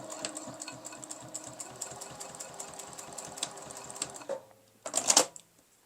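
A sewing machine stitches fabric scraps together at a narrow seam, a quick rhythmic needle clatter running for about four seconds before it stops, followed by a short sharp clack or two, close and fairly quiet.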